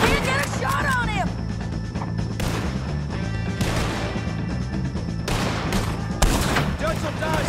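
Gunfire in the video game Red Dead Redemption 2, a shootout against the O'Driscolls, crackles as dense overlapping shots amid game noise and voices, loud throughout with sharp bursts near the end.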